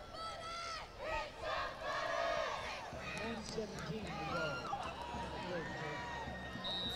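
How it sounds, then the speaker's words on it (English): Fans at a high school football game between the East St. Louis Flyers and Alton Redbirds cheer and shout in a loud, surging crowd roar with yells rising over it, continuous for several seconds. "Flyers fans are beginning to cheer."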